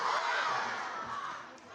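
Children at a school assembly roaring together, a loud sustained crowd shout from a large group that swells at once and slowly fades over under two seconds, heard from a short distance in a hall.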